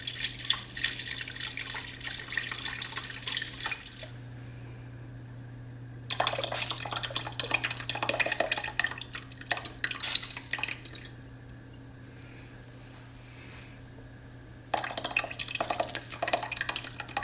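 Chicken broth and water poured into a pot while making chicken parmesan soup, heard as three separate steady pours of splashing liquid with short pauses between them and no talking.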